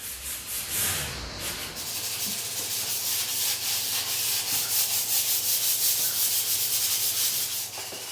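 Hand sanding with sandpaper over a wooden surface during a home makeover, a continuous close rasping rub with rhythmic back-and-forth strokes, steady and moderately loud without talk.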